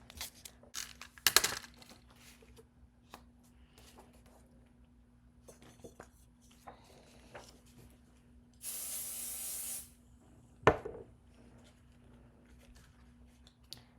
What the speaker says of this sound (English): So I've went ahead and sprayed some of the pixie spray on here.